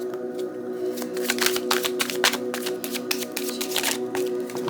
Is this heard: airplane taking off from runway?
no